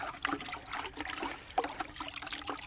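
Water pours into a 5 gallon bucket as a soft, bubbling trickle close by, quiet and steady for a few seconds, with no talking.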